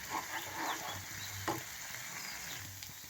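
Masala paste with ginger for mutton curry being stirred and sautéed in a pan, a soft steady sizzle with scraping stirs, fairly quiet throughout and with no voices.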